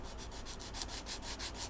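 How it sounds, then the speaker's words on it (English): 80-grit sandpaper wrapped on a flexible craft stick rubs back and forth over the wooden neck of a 1948 Gibson LG-3 guitar, a close, even scratching in about a dozen regular strokes. "Then I'll use some 80 grit sandpaper on a craft stick."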